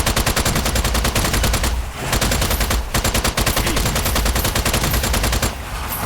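Rapid, continuous gunfire from the video game Strange Brigade hammers away close and loud, with only brief gaps in the rattling volleys.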